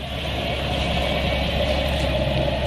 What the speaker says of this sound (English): You can hear the sound of a big diesel truck.